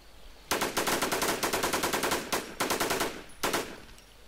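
Automatic gunfire in the zombie survival game War Z rattles out in several long bursts separated by short pauses, loud and close, with no voices over it.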